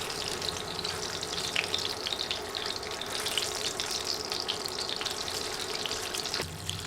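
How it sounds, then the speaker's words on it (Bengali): Spice-coated eggs fry in hot soybean oil while being stirred, a steady hiss and crackle, moderately loud and close, with a sharp knock near the end. "ডিম দিয়ে অনবরত নেড়ে নেড়ে 1-2 মিনিট ভেজে নিলেই হবে"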